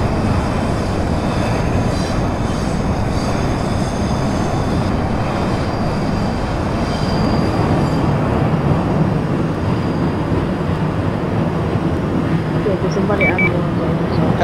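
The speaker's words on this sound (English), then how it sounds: "Has that Q train restarted yet?" New York subway Q train running on the line to Coney Island, a loud steady rumble and rolling roar of the train in motion that continues without break, with a faint radio-like voice beneath it.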